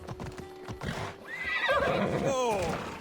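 Horse in the Assassin's Creed video game, hooves clip-clopping before a loud, wavering neigh rings out up close, with someone talking over it.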